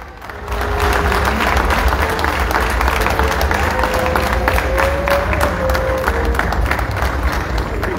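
Sustained applause from a large crowd, dense clapping that swells in after a brief quieter start and continues steadily with a faint background tone.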